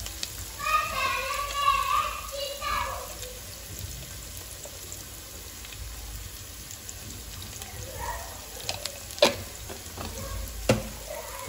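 Mutton curry with turmeric sizzles in a pan while a spoon stirs and scrapes, a soft steady crackle broken by a few sharp clinks, with faint speech-like murmurs early on.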